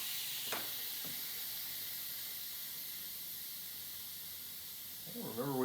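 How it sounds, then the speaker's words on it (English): Steam releasing from a Pampered Chef quick cooker pressure cooker, a loud continuous hiss holding steady for several seconds after a couple of short clicks, with a voice starting to speak at the end. "I'm going to release the rest of the steam."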